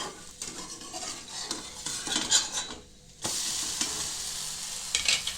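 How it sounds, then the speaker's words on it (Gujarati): Mini handvo, a savory Gujarati lentil-and-rice batter cake, sizzles steadily in a pan, with scraping and clinking as it is stirred and flipped over; the sizzle drops out briefly around the flip, then returns louder and steady, with no talking. "હવે એને આપણે ફેરવી લઈશું બીજી સાઈડ."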